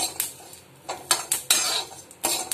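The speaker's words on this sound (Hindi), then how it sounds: "हमने जो अभी गिरी ली है इसे हम इस तरीके से भूनना है, इसमें घी नहीं डालना है।" Coconut kernel dry roasted in a pan without ghee for panjiri, heard as several brisk metal spatula scrapes and clinks against the pan in short bursts, close and fairly loud, with little sizzle.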